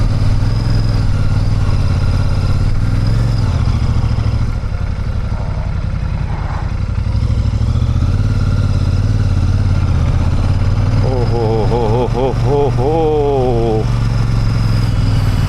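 A motor vehicle climbs a sharp, steep slope in second gear near the Trimbakeshwar temple, its engine droning loud and steady throughout while a person talks over it.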